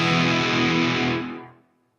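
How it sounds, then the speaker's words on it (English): Electric guitar played through a NUX MG-400 multi-effects unit with reverb and delay, a loud sustained chord ringing out and then fading into a smooth decaying tail, with no talking. "I get the tail end of the reverb. I get the tail end of the delay."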